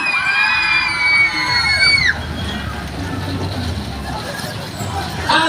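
Riders on a Superbob fairground ride running backwards scream together in loud, rising shrieks for about two seconds, then fade into rumbling ride noise and crowd murmur.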